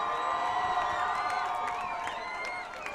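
A high school football crowd at Rocky Mountain HS vs Mountain Vista HS cheers a touchdown, with a continuous roar of voices and scattered whoops and shouts in the stands. The cheering is moderately distant.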